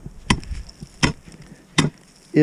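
Four sharp, hollow chops strike hard lake ice at a steady, unhurried pace while searching for a beaver bank den, each a loud isolated thunk with quiet in between.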